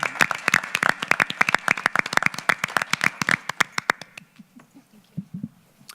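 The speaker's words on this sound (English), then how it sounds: "So I think that deserves a huge round of applause." A small group at a community council meeting claps, the sharp individual claps loud at first, then thinning out and fading to a few scattered claps with faint murmuring near the end.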